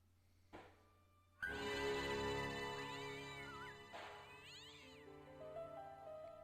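A cartoonish cat in the Broken Sword point-and-click game gives a loud, wavering meow that rises and falls, followed by a second, shorter meow, over a steady background game tone.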